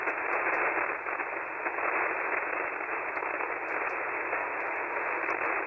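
Steady hiss of ham radio static fills the band while an amateur operator tunes and swaps antennas, a broad even wash of noise with faint crackles, constant and fairly loud, no voices.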